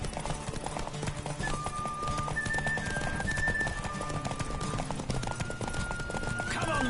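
A horse gallops in Witcher 3, with rapid rhythmic hoofbeats pounding steadily throughout under game music and a voice.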